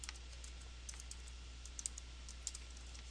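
Someone types a command on a computer keyboard, light scattered key clicks, a few sharper taps standing out, fairly faint over a low steady hum.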